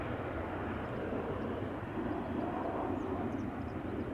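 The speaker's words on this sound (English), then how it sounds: "Atlas is taxiing, Kuni is saying." Cargo aircraft taxiing at Amsterdam Schiphol Airport, a steady broad engine roar and rumble at moderate distance, continuous and without talk.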